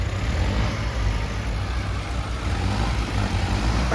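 A tractor engine runs steadily nearby with a low, even rumble and slight fluctuations in pitch, with no talking, in a village setting where an embankment is being built.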